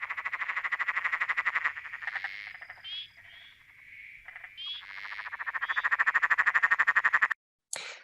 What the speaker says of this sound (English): So they're sometimes called the emerald spotted tree frog or maniacal cackle frog.